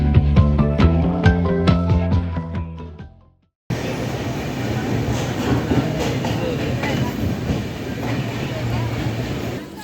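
Train departing Tiruvallur station, with a loud, steady rumble and clatter of wheels on track that continues after a brief cut. Musical tones are heard before the cut.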